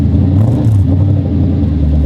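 A V8-swapped Nissan S14 idles and revs close by, a loud deep engine rumble with a brief rise in revs partway through, and no voices.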